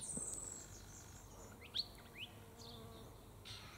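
A bee buzzes faintly near flowers outdoors, with a soft steady hum, brief louder passes, and occasional bird chirps in the distance; no one talks.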